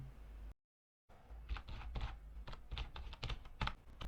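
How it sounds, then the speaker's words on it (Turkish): Quiet typing on a computer keyboard, with irregular bursts of soft key clicks following a short pause, close and alone without voices. "Dosya adını yazıyorum."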